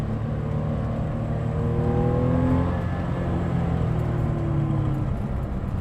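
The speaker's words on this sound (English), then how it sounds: "that's a great engine" A 1996 Porsche 993 Carrera's air-cooled flat-six pulls hard under acceleration, its rising engine note steady and loud from inside the car, with no talk.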